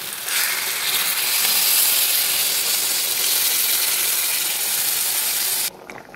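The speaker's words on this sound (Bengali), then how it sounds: "এবার আমি জল ঢেলে দেবো।" Water poured into a pan of sautéed potato curry sets off a loud, steady hiss and sizzle that holds for several seconds before stopping abruptly.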